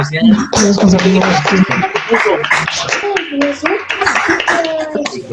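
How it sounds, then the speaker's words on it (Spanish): Scattered clapping from participants on open microphones during an online church sermon, uneven sharp hand claps mixed with children's voices and other talk throughout. "podemos abrir micrófonos para aplaudirles a ustedes ese gran esfuerzo que han hecho"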